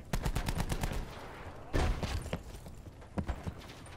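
Rapid gunfire from a weapon in a first-person shooter, loud and dense bursts of shots in quick succession, pausing briefly and resuming, with faint talk in the background.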